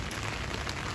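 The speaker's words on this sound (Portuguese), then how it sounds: "tá chovendo e tá fazendo barulhinho da chuva" Rain falls outdoors on a New York street, making a steady, dense hiss of drops hitting surfaces with no pauses over the brief moment.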